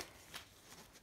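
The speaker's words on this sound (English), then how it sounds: "Just going to shuffle them a few times." A brief, soft riffle of playing cards being shuffled, with a couple of quick papery flicks close by.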